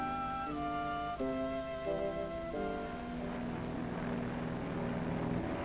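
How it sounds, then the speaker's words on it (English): A propeller airplane passes overhead spraying against fire ants, its engine drone loud and steady throughout, with shifting tonal pitch as it goes by. "Airplanes have been used against fire ants in a number of towns and cities, as well as rural areas."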